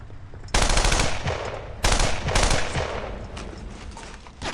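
Rapid automatic gunfire from the World War II video game Brothers in Arms: Earned in Blood, loud dense bursts of machine-gun fire in two main volleys with scattered shots between, no voices.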